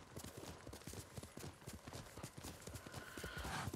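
Rhythmic clip-clop of horse hooves trotting steadily in the Ghost of Tsushima game, close and continuous over a background ambience, with a faint tonal whine rising near the end.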